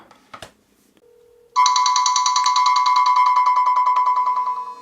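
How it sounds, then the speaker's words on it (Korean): An iPlay60 Mini Pro 8.4-inch tablet ringing for an incoming call, a loud, bright electronic ringtone that pulses steadily and continuously. It follows a few faint taps and a brief low tone. "벨소리가 아주 요란하게"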